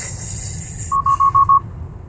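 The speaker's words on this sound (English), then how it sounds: "It gave a forward collision warning there." A 2022 Tesla Model Y Performance sounds its forward collision warning: five quick, evenly spaced electronic beeps, close and clear, over a low road rumble and hiss inside the cabin, no talking.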